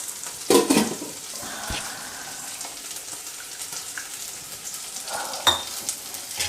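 Chilli paneer ingredients fry until lightly browned, a continuous moderate sizzle broken by a sharp utensil clatter near the start and another toward the end.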